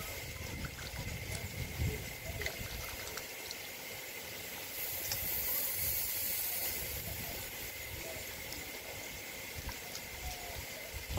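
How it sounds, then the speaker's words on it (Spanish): Tap water runs steadily during handwashing, a continuous close hiss with faint splashing that swells slightly midway. "Me voy a lavar las manos"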